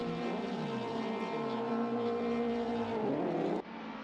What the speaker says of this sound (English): Lights are up, engines are revving.